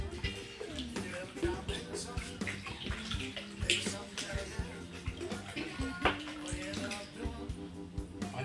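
Water sloshing and splashing as tanning chemicals for a fallow deer cape are stirred into cold water, a steady close-up churning with intermittent splashes.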